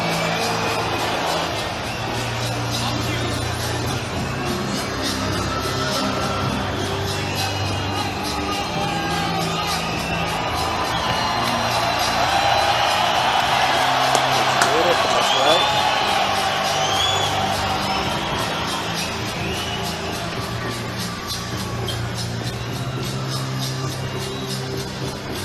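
Massive crowd roaring at the Grand Garden Arena during a boxing ring walk, a dense sustained wash of cheering and whoops that swells midway, with an announcer speaking over it.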